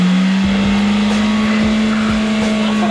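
A buried, very stuck Toyota Corolla hatchback revs hard with a loud sustained engine drone and spinning tires, while people shout and talk over it nearby.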